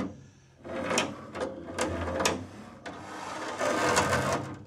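A band saw with worn lower thrust bearings runs nearby, giving an uneven rattling, clattering mechanical noise with irregular knocks and scraping surges.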